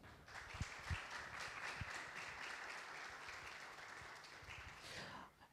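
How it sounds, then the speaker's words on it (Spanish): A live audience breaks into steady applause after a book presentation in Argentina, dense clapping sustained for several seconds at moderate distance before tapering off at the end. "académico Fernando Ruiz, a quien le brindamos un fuerte aplauso."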